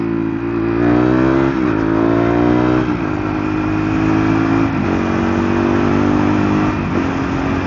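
A KTM Duke 390 motorcycle engine roars loudly up close, its revs climbing and dropping repeatedly as it shifts down from sixth to second gear.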